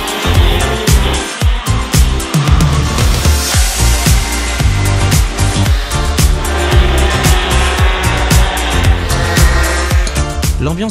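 Sodi Rotax mini-karts racing at a Coupe de France karting event, with loud buzzing engines passing close one after another and rising and falling in pitch, with a busy continuous roar throughout.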